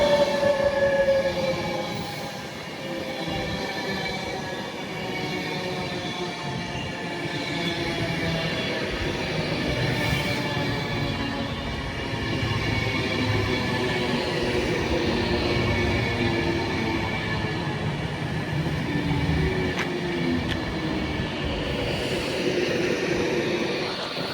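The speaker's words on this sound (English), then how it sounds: "Soon to arrive in now will be the 11:44. Advance West Coast service from Manchester Piccadilly to London Euston." A Class 390 Avanti West Coast electric unit, 390 137, rolls into Nuneaton on the West Coast Main Line on its Manchester Piccadilly to London Euston run, a steady loud rumble with wheel and motor whine held throughout.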